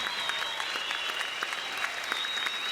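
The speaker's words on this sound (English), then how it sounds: "Let's have a warm round of applause for all of our brave men and women" Stadium crowd applause at a Pirates spring training baseball game, a broad, somewhat distant wash of clapping holding steady for a few seconds, with a thin steady tone running through it.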